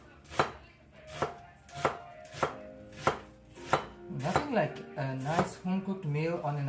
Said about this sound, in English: I'm just chopping onions, quite literally.